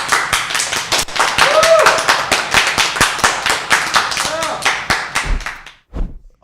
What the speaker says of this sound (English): what an outstanding performance from the team captains clapping